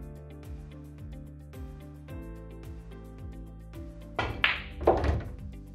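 A pool cue strikes the ball during a shot in a lesson, giving a couple of solid knocks near the end over steady background music.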